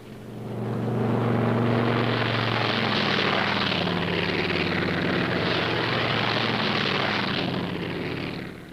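WW2 P-47 Thunderbolt fighter planes take off with a loud, sustained propeller engine drone that swells in and holds steady before fading slightly, heard alone without talk.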